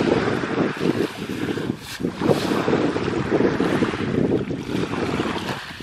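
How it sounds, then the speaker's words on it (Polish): Broad, steady roar of sea waves washing in at Šibenik, Croatia, mixed with gusting wind buffeting the microphone, continuous and fairly loud throughout. "Ale lubię taki szum morza."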